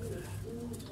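Pigeons in a Kocaeli pigeon shop coo softly, a low throaty murmur lasting under a second against a busy background of faint shop noise.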